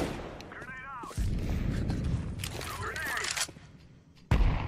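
Grenades thrown and exploding in a video game, heard as loud booming blasts and gunfire-like bursts, with a sharp burst near the end, under excited talk from a streamer.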